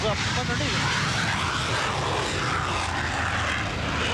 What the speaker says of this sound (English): The airplane doesn't really look like it gets off the ground at all.